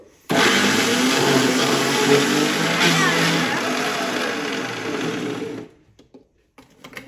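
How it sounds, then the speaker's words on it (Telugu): A kitchen mixer grinder runs loud and steady at high speed for about five seconds, starting abruptly and then cutting off, leaving a few faint clicks afterward. "అది మిక్స్ కాబట్టి రుబ్బుతూనే ఉంది"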